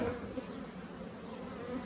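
Honey bees buzzing around hives during a hot, sunny hive inspection, a dense continuous drone of many insects close by, steady and fairly loud throughout.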